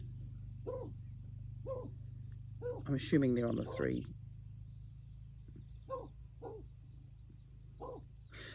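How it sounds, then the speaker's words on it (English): A dog barks a few times in the distance at a neighboring farmer, brief sharp yelps over a low steady hum, while a person speaks nearby. "There goes my dog barking at the farmer next door."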